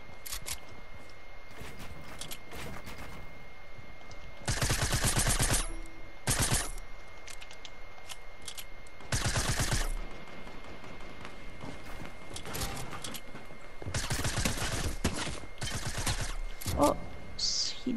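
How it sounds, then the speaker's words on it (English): Video game gunfire comes in several loud bursts of rapid shots, with quieter gaps of background noise between them. "Oh, someone else is shooting at me."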